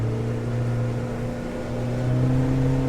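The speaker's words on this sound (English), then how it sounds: "Engine pushes us good." A Honda 90 HP outboard on a 2021 Starcraft Starweld 17 Flex aluminum boat under power, a steady loud engine drone with a low hum that rises slightly in pitch near the end, no talk.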